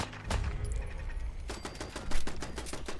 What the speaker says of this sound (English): No, turret, keep shooting the super mutant.